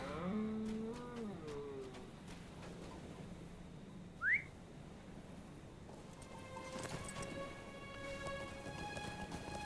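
A cow lows in the Lord of the Rings Online game, a drawn-out bellow over quiet outdoor ambience with a brief whistling chirp and soft background game sounds.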